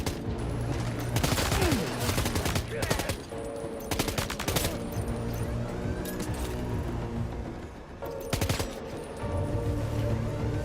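Rapid bursts of automatic gunfire from a hard-recoiling weapon in the video game Death Stranding 2, loud, dense volleys with short pauses between, over a steady game soundscape and engine-like rumble.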